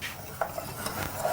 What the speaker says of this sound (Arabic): هاتي نحرك شي مليح